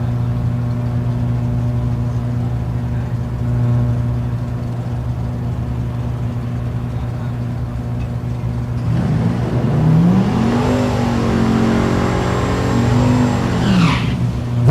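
A drag race car making a pass at Thunder Valley drag strip in Noble, Oklahoma: a steady loud engine idle drones, then the car launches into a hard, rising, revving roar that builds for several seconds.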